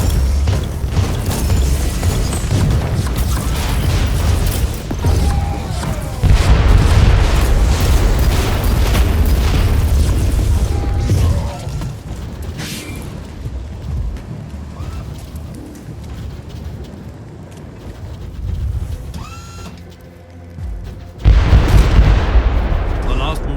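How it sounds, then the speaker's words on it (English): Rebel mortar artillery fire in the Warhammer 40,000 Inquisitor video game: loud, continuous booming blasts and rumbling explosions under a dense battle mix, with a brief lull near the end before heavy impacts return. "their mortars attack the Imperial fort with artillery fire"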